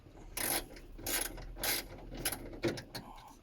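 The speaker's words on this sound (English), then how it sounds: "He's just loosening that nut right off now." A ratchet loosens a nut on the window stud of an Astra Mk4 rear side window: several short, close, quiet bursts of rapid clicking separated by brief pauses.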